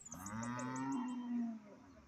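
A single drawn-out moo from a buffalo calf at a cattle market, fairly close and clear, rising slightly then fading, with faint background noise.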